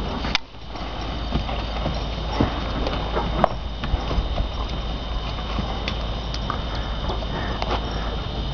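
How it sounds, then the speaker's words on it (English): Hooves of a horse clip-clopping on a hard surface as it is hitched to an Amish buggy, a close, fairly loud series of irregular knocks and taps scattered across the whole stretch, with little talk. "we actually see the horse getting hitched up"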